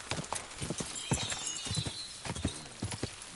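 A horse's hooves clop along at a gallop in the medieval video game Kingdom Come: Deliverance II. The quick, uneven beats sound moderately close over a soft background hiss.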